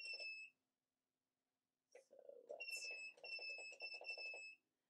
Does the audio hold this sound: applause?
no